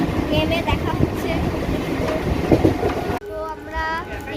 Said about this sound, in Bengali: ওই দেখো, এই যে ট্রেন চলছে